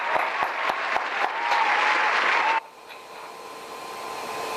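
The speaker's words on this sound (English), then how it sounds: "We'll applaud them, then I'll read their names." An awards-night audience applauds in a dense burst of clapping that cuts off abruptly after a couple of seconds, leaving a quieter hiss behind.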